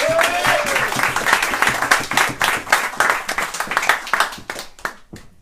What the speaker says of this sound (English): Should we have a big round of applause for Wendy?